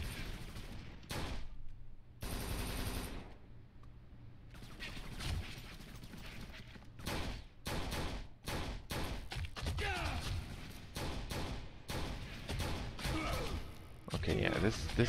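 Gunfire in the video game Kane & Lynch 2, with rapid bursts and single shots crackling in irregular clusters and a player talking over parts of the fighting.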